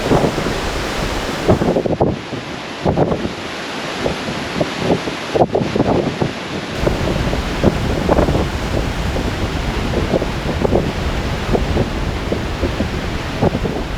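Strong Kansas prairie wind roars and buffets the microphone continuously, with gusty broadband rushing and low rumbling thumps throughout, no voices.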